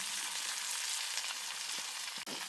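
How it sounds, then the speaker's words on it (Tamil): Onions, green chillies and curry leaves fry in a hot pan, giving a steady, dense sizzle that stays loud and close throughout, with one brief crackle near the end and no talk. "இப்போ வெங்காயத்தை சேர்த்துக்கொள்ள போகிறேன்"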